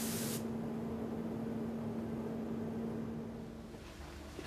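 Spray gun applying car paint in a body shop, a steady broadband hiss of atomised paint that holds evenly and eases slightly near the end, with a constant hum underneath.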